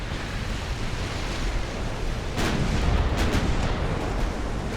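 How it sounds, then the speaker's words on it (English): Light caliber naval guns fire rapidly in a naval warfare video game, a dense continuous rumble of gunfire with a few sharper bursts partway through, steady and loud with no talking. "Just a constant stream of fire coming from the Otago. The light caliber guns."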